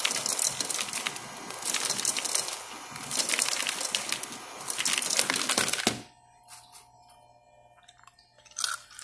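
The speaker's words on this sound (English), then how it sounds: "as it hit the bowl and come out of the machine" An ice machine drops popcorn ice into a bowl in a dense, loud stream of clattering and crackling that stops abruptly, leaving a few faint clicks and a quiet hum.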